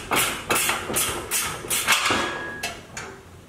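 A 1/2 inch wrench ratchets a self-locking nut tight on a Game Winner 225 lb game feeder, giving a close series of about seven sharp metallic clicks at a steady rhythm that trail off toward the end.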